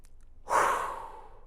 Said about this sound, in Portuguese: faz uma respiração profunda como eu fiz agora